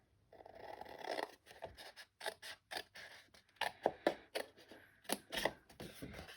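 Scissors snip through paper while a gift box is cut out by hand, a run of short crisp cuts in an irregular rhythm, close and fairly quiet with no talking.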